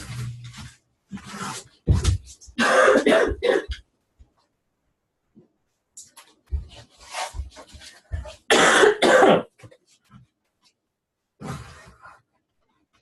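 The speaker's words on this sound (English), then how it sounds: "Okay, here comes my cough." A person with a cold coughs and clears their throat in several separate bursts, loud and close, with short silent gaps between the fits.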